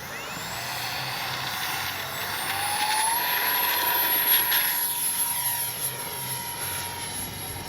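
A small, light X-Fly Su-57 RC jet flies during a windy maiden flight, its electric ducted-fan whine steady and high-pitched, swelling slightly as it passes and staying continuous throughout with no talk.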